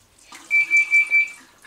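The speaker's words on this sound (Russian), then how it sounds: "Пищит, зовет меня духовка." Four short, evenly spaced electronic beeps from an oven, clear and close, with faint background noise.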